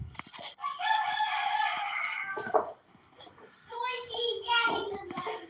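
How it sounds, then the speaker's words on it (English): Homestead roosters crow loudly and close, one long cock-a-doodle-doo followed after a short pause by another, with faint background clucks. "Yeah, the roosters are a little noisy,"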